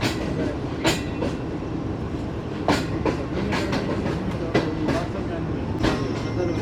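Shalimar Express train rolling out of Khanewal Junction in Pakistan, its wheels clicking in irregular clacks over rail joints amid a continuous rumble, heard from on board.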